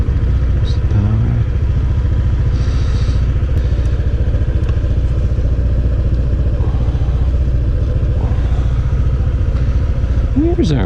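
A Honda PCX scooter is switched on, its engine running steadily and close throughout with a low, continuous hum and light mechanical clatter.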